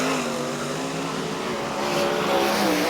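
A sprint car races at Charlton Raceway in a 2005/06 World Series Sprintcars meeting, its engine a steady, loud, rasping drone whose pitch shifts slightly as the car runs an unsettled lap, with no talk over it.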